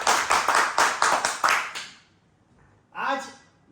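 Applause for Afghanistan's cricket team after their Cricket World Cup 2023 win over the Netherlands: about seven sharp, evenly spaced claps close up, then a pause before a voice begins speaking.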